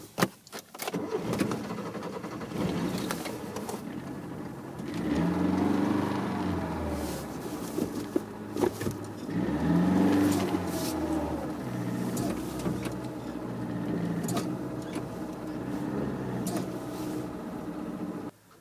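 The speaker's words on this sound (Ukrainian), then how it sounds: "Ну, завожу машину і поїхали." A car engine turns over and runs after riders load helmets, mountainboard gear and a backpack, then pulls away; a steady, fairly close engine drone rises and falls across the whole stretch with clunks and rattles, and no one speaks.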